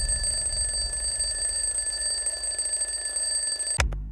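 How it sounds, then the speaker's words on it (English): A twin bell alarm clock rings loudly and continuously, close and shrill, then cuts off abruptly with a clunk near the end. "The twin bell alarm provides an extra loud ring"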